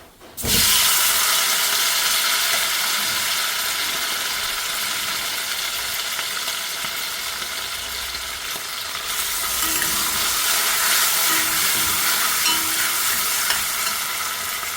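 Mutton liver hits a hot pan of browned shallots with a loud, steady sizzle that holds throughout, brightening toward the end as the frying intensifies.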